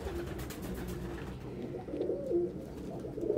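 Pigeons in a loft give low murmuring coos, a few tonal calls rising briefly above a dull steady background, moderately near and without talk.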